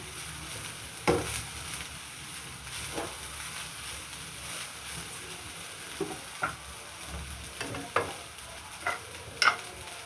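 Chicken fried rice stirred and fried in a pan with pepper powder, a steady soft sizzle under scattered scraping knocks of a spatula against the pan, close and moderately quiet, with no talking.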